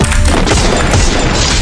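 A gunshot from an online shooter game lands as a loud, dense burst amid constant gameplay noise, with heavy impact and crash-like texture filling the short stretch.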